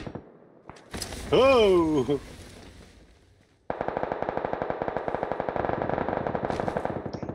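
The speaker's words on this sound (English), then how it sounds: "we're getting shot from every which way" Gunfire in a shooter video game, with a dense, steady rattle of rapid machine-gun bursts that runs loud and close for several seconds after a brief shouted exclamation and a voice at the start.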